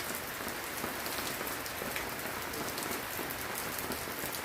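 Heavy rain pours down in a steady, dense roar of drops drumming on surfaces, constant and unbroken, with no voices.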